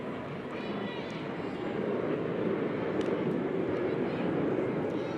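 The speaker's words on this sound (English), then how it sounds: "You can definitely hear when it's like the bigger international planes taking off. They make a little bit more of a roar." A large international airliner taking off near a pro softball field, a broad steady roar that swells slightly and holds, heard at a distance over crowd ambience.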